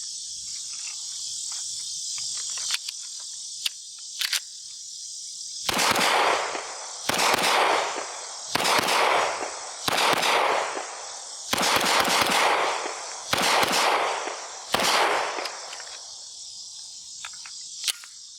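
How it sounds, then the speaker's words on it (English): Walther PDP F Series pistol firing a magazine outdoors, about a dozen sharp, loud reports spaced roughly a second apart, each ringing briefly, over a steady background of chirping insects. "let's shoot one more mag through here"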